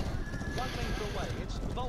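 Racehorses gallop in the Phar Lap Horse Racing video game, with rapid hoofbeats and a whinny blended under continuous commentary.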